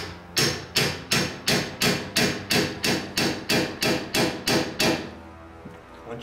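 About a dozen sharp metallic hammer strikes on a pickle fork ring out at a steady, even rhythm, close and loud, with no talking, during a front camber kit install on a Honda Del Sol.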